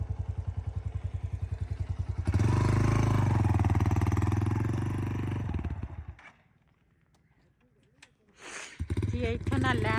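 A motorcycle is pushed and ridden over an obstacle on a village path, its engine running loud and close with heavy clattering and revving, then dropping away briefly before picking up again, while people talk.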